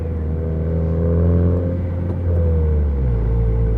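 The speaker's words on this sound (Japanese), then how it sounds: "でこのようにギアチェンジ、ブリッピングシフトダウン、" A Honda FK7 with an HKS aftermarket exhaust, a steady loud low engine drone that dips at a gear change and then a blipped downshift, heard close with no talking.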